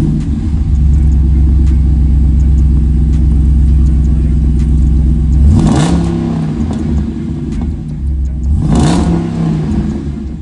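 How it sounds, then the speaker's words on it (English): A Jeep Wrangler fitted with a MagnaFlow Street Series exhaust idles with a loud, deep burble, then revs twice in sharp, rising blips that fall back to idle, close and prominent. "so it's really a plug and play system that looks and sounds amazing."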